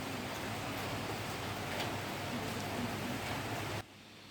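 Heavy rain pours down at night during the Thiruvathirai festival chariot procession in Chidambaram, a steady, dense hiss that fills the whole stretch and then cuts off abruptly near the end.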